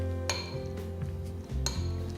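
A spoon clinks against a bowl while a vegetable filling with mayonnaise, salt and pepper is mixed, making a few light taps over a low hum.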